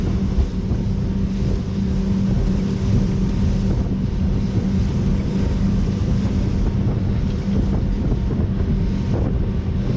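A 2003 Beachcomber 21 pontoon boat under way on Lake of the Ozarks, its motor running smoothly in a steady low drone, blended with strong wind buffeting and water rush throughout, without speech.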